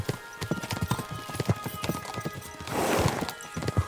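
Horses' hooves clip-clop in a steady, close rhythm while riding in Kingdom Come: Deliverance II, with a brief swell of rustling noise partway through and a possible faint whinny.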